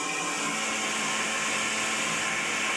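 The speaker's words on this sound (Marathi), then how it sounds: "आता हे मिक्सरच्या भांड्यात लावले ना" Mixer grinder blending gram flour batter, a loud continuous high-pitched motor whir running steadily from start to finish with no break.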